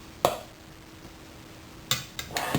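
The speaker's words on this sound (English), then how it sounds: "to soften up more, I'm just going to use a fork and a spoon" A fork and spoon work ice cream in a dish to soften it, making a few sharp metallic clinks and scrapes against the dish, spaced irregularly, close and otherwise quiet.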